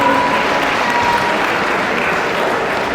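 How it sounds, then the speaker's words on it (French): A crowd at a savate boxe française gala applauds continuously, a dense, loud, steady wash of clapping filling the hall throughout. "on peut les applaudir"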